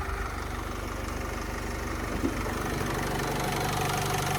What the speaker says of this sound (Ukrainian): Дивимося моторний відсік і слухаємо, як працює мотор.